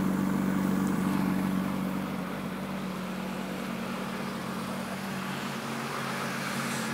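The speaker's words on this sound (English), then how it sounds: "still has original muffler. It's not super loud, but you can still hear the rumble a little bit." A 1991 BMW M5 with its original muffler gives a steady, moderate engine and exhaust rumble with a low drone that eases slightly after the first couple of seconds.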